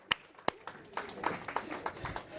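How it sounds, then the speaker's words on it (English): Scattered audience applause after a magic trick at a live show, starting with a few sharp isolated claps and building into a loose, moderate patter of hands from a small crowd. "Everybody give Symphony a big round of applause."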